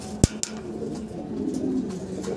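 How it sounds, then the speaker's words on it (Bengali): A pair of black Dragon pigeons at a pigeon market coo softly and steadily at close range, with a couple of sharp knocks or flaps near the start and light background noise. "দর্শক আপনারা দেখতেছেন আরো এক জোড়া ড্রাগন কবুতর"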